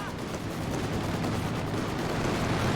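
Sustained gunfire from a strafing run hits rocket units in Company of Heroes 2, a dense continuous rattle of rapid shots with low rumble, steady and loud throughout without pause.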